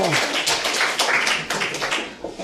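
A church congregation claps hands together during a Sunday worship service, producing a dense, steady wash of many overlapping claps throughout.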